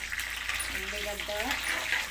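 Onions, peanuts and mustard seeds sizzle steadily in hot oil, a close, constant hiss with a faint voice briefly audible in the middle.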